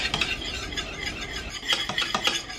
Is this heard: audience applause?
no